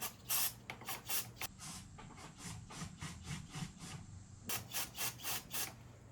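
An air nozzle blows compressed air through a clogged VW Beetle fuel line in a series of short, sharp hissing bursts, some quick and clustered, others spaced apart, fairly faint and with no voices.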